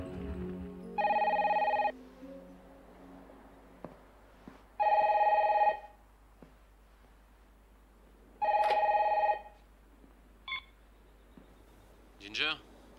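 A telephone rings three times in steady, evenly spaced electronic trills, each about a second long, followed by a couple of shorter beeps, with faint voices briefly heard at the start.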